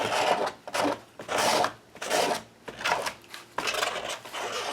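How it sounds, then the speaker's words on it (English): Excess acrylic paint scraped off a painting in repeated rasping strokes, about six rough scratchy passes in a steady rhythm, close and fairly loud. "I'm going to go in here and I'm just going to scrape some of this excess off."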